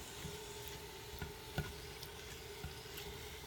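Beef browning in a pan for beef and noodles, a faint, steady sizzle with a few soft clicks and taps from the pan.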